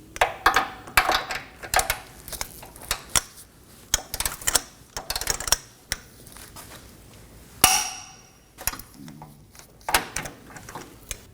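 Wrench torquing a front control arm bolt on a 2020 Toyota Corolla, a series of sharp metallic clicks and clanks in irregular bursts, close with no talking.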